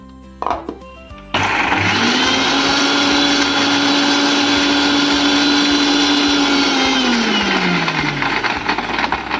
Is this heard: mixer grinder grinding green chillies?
yes